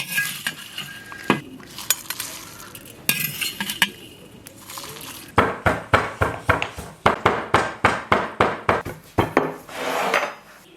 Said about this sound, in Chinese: 调料炒香，舀出来捣碎。